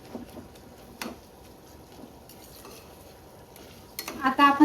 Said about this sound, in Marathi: थोडं हलवून घेऊ.